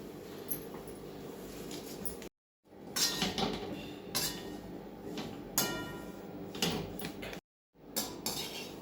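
Grated coconut roasts in a pan over low heat while it is stirred constantly, making dry scraping, clinking and rattling of a utensil against the pan, with two brief silent gaps.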